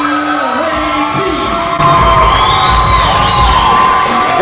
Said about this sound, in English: Great response here from the local crowd for young Reti.